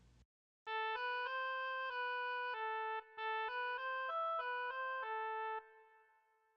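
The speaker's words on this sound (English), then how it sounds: "This is the sound of an oboe." Solo oboe playing a simple melody of about a dozen sustained, reedy notes in steady rhythm, close and clear, the last note fading out.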